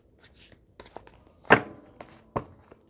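A deck of playing cards is cut during a sleight-of-hand card trick, giving soft papery slaps and taps, with one sharper snap near the middle and another shortly after, heard close up.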